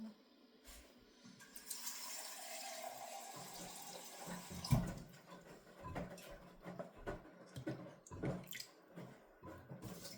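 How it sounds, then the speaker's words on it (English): Tap water runs steadily into a coffee machine's reservoir, a continuous splashing fill lasting several seconds, then a few clinks and handling knocks as the flow eases. "I'm just filling up the coffee machine with"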